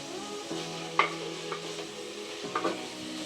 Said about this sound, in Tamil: நல்லா இப்போ கலக்கி விட்டுருலாம்